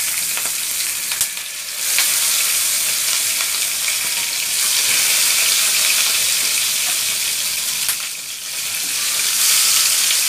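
Bata fish frying in oil in a pan on lowered heat, a loud, steady sizzle with occasional clatters as pieces go in, continuing throughout.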